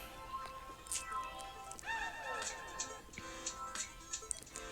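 A horse whinnies in an audio drama, with a drawn-out falling neigh in the middle among other bursts of horse sounds and light clatter, moderately loud and without speech over it.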